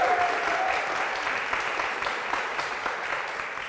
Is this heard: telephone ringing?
no